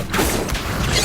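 Accio summoning spell cast in the Hogwarts Legacy video game: a steady, dense magical whoosh with a faint mechanical ratcheting texture that stays loud and close for about a second.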